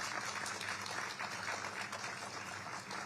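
Audience applause at a literary festival session in Kolkata, a steady wash of many hands clapping at a moderate distance, continuous and even with no voices over it.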